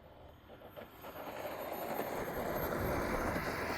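A radio-controlled model airplane lands and taxis, a steady broadband roar of motor and rolling noise that swells after the first second and stays loud and continuous to the end, with no voices.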